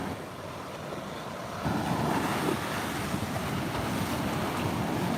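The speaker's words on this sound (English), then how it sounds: "These boats are getting close to shore." Ocean surf on a beach at Fort Pierce, Florida, with boats approaching the shore, a continuous broad wash of breaking waves mixed with gusty wind buffeting the microphone, growing louder partway through, with no voices.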